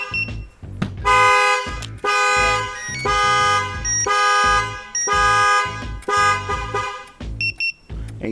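A 2008 Chevy Impala alarm set off by its shock sensor blares nearby, the horn honking in long repeated bursts with short gaps, loud and insistent, ending in a few quick toots.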